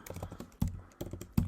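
Keys clack on a computer keyboard while JavaScript code is entered, a quick run of close, crisp taps with a few sharper strokes standing out, heard alone with no voice.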